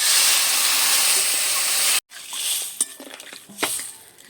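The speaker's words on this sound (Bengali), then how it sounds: "এবারে আমি জল দিয়ে দেবো এখানে পরিমাণ মতো।" Water poured into a hot pan of fish and crab curry gives a loud, steady hiss for about two seconds. After an abrupt cut, quieter clinks and scrapes of utensils follow.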